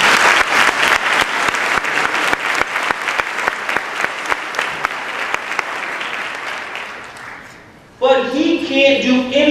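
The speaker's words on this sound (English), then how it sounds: "Please give him a round of applause." An audience claps for a school superintendent at a speaking event, a steady burst of applause that gradually fades before a voice begins speaking at the end.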